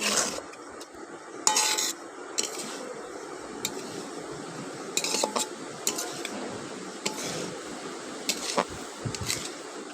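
Finely chopped potatoes get stirred with spices in a pan, with repeated scraping and clinking strokes of a spatula over a soft frying hiss, close and fairly quiet.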